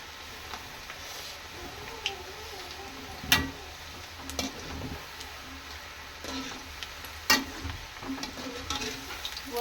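Sweet shankarpali dough pieces frying in hot oil, a steady low sizzle with faint bubbling and a few sharp utensil clicks, heard close with no talking.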